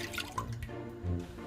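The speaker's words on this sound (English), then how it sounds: "Now I will be adding the milk" Milk is poured into a pan over a low flame for coconut pudding, producing a short, close, liquid splashing and trickling sound.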